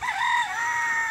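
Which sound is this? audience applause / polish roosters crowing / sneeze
polish roosters crowing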